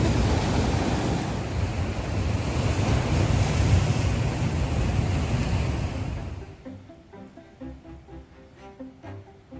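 Large ocean surf pounds the Madeira coastline in a loud, steady roar mixed with wind noise, then cuts abruptly to a much quieter scene with faint sounds after about six seconds.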